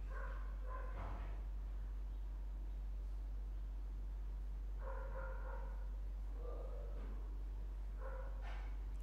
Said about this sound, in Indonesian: Guguk tetangga.